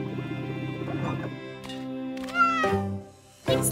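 A small cartoon kitten gives several short, high meows, close and clear, over a soft steady background hum, with a final meow at the end.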